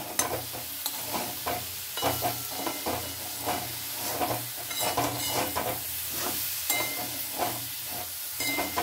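Spiced broccoli curry with salt and sugar is stirred and sautéed in a pan, a steady close sizzle broken by repeated scraping strokes of the spoon in an irregular rhythm, with no talking.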